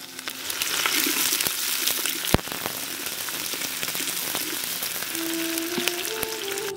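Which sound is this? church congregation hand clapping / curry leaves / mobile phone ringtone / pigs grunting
curry leaves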